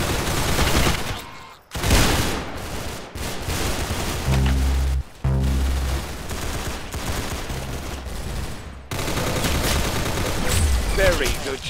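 Gunfire in the video game Arsenal, with dense continuous bursts of rapid shots under loud game sound and music, and a brief gap partway through.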